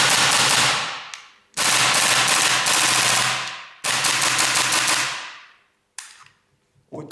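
A GHK G5 airsoft rifle fitted with a DMR kit fires three long bursts, each loud and close, with rapid mechanical clatter, followed by a few softer clicks and handling noises.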